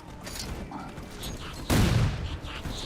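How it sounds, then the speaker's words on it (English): A grenade explosion in Halo 4 bursts suddenly midway as a loud, broad boom with a decaying rumble, set among scattered mechanical clicks and game sounds. "Grenades explode very quickly here."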